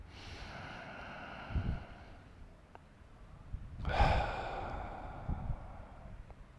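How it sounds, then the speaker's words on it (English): During a yoga breathing exercise, a person takes a deep breath in and releases a loud breathy exhale through the mouth. The breath comes twice, soft and close, against a quiet background. "Big inhale through the nose. Loud exhale through the mouth."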